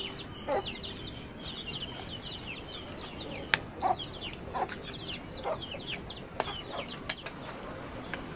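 Chickens cluck and chirp in short scattered bursts across an outdoor yard, with a few sharper calls and brief wing flutters, no voices.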